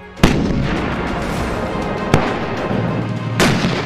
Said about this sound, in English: The 120mm gun can fire a variety of munitions.